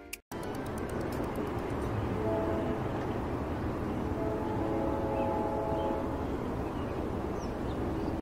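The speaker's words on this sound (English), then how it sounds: "It's a distant train soundtrack with the birds singing in the surroundings." A distant train rumbles steadily as a continuous low roar, with faint tonal horn-like or squealing notes. Birds singing are not clearly distinguishable in the surroundings.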